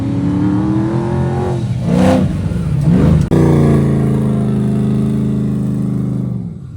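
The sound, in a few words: Ford F-150 truck engine revving while driving off-road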